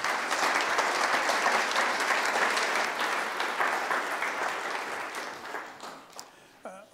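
Sustained audience applause welcoming Marc Levy of Columbia University at a talk on climate change and security, a dense, full round of clapping that gradually thins and fades out.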